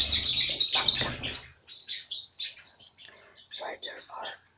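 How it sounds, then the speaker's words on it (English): Parrots flying around chirping close by, a burst of high twittering calls after a soft whispered voice, then scattered sharp chirps continuing on their own. "I have a few of the parrots flying around here, so hope they will keep a little quiet."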